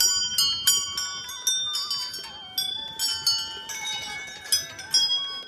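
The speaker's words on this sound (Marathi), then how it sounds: "बघा ह्या काही घंटा आहेत तिथं" Temple bells ring at Maa Dhara Devi temple in Uttarakhand: a run of sharp, bright strikes whose metallic tones overlap and decay, with faint voices in the background.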